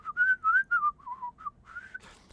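A person whistles a short melody up close, a few clear pitched phrases rising and falling, ending with a breathy noise.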